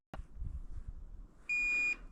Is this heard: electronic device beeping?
yes